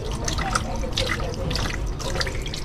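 Hot water drains away in a steady, close rush of splashing and trickling that runs without a break, with no voices over it.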